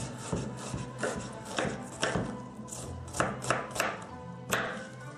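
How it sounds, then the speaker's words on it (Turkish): A knife chops onions steadily on a cutting board, quick repeated close-up cuts in an uneven rhythm, with no one speaking. "Soğanımızı çok ufak olmayacak şekilde doğruyoruz"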